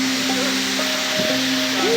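A steady, loud broadband rush of a waterfall in a forest, continuous and close, with faint tonal hums layered over the roar and no clear speech.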